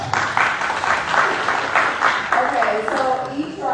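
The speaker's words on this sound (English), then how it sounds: "round of applause just for that" Applause from a classroom audience at a guest speaker talk on happiness at work, a steady dense patter of clapping lasting throughout, with voices mixed in underneath.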